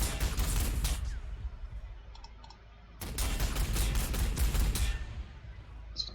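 Rapid bursts of gunfire from a Warhammer 40,000: Sanctus Reach skirmish, dense broadband volleys for about a second, a quieter lull, then another sustained barrage from three to five seconds, fairly close and loud, with no talking.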